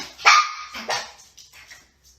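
A dog gives two sharp barks on command at close range, followed by a few softer yips and whimpers trailing off, with no talking over them.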